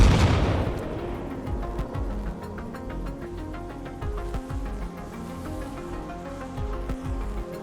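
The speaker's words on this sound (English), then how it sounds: "There's still some shooting out here, though." Gunfire in the video game ArmA Reforger: a dense, steady run of sharp shots and rattling bursts, some near and booming, others distant, continuing throughout with no voice.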